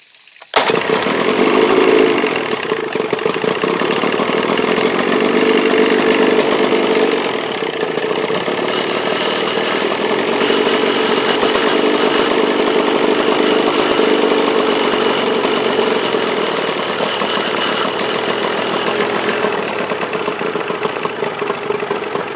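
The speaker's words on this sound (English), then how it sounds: "We're going to start the engine up" A two-stroke outboard engine, being winterized, sputters to life and keeps running loudly at a steady, buzzing idle, alone without any talk.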